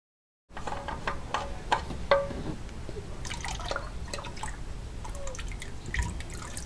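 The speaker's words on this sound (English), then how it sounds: "You'll want to reposition your drain bucket to catch some of this extra that's going to spill out here." Used engine oil from a 2013-2016 Honda Accord dripping into a drain bucket during an oil change: steady trickling and irregular small drips over a constant wet background, close by, with no speech.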